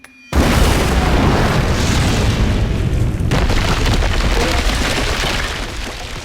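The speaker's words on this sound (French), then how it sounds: "Et nous, bah, on les bloque avec une grenade." A grenade explosion in the video game Enter The Matrix sets off a sudden loud boom, then a long roaring rumble of falling debris that holds steady for several seconds before slowly fading.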